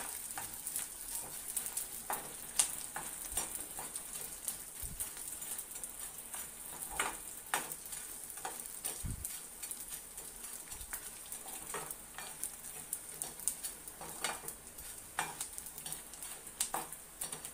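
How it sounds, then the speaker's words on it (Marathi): Edible gum (dink) fries in hot oil in a pan while being stirred, giving a continuous soft sizzle with scattered light scrapes and taps of the spoon against the pan. It is fairly quiet and close, with no talking. "आता मी सर्व डिंक ना हा असा तळून घेते"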